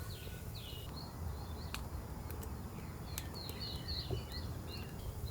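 Birds sing in repeated short, high chirps at an early-morning campsite, fairly faint and distant over a soft outdoor hiss, with a few sharp clicks in between.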